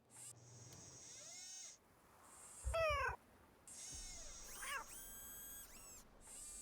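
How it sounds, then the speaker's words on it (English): Robotic cat Suki in the Nancy Drew game Shadow at the Water's Edge gives several electronic, synthetic meows and chirps in a row, each clear and close, over a faint hum with a few brief whirring sounds between them. "Who's my favorite robotic cat?"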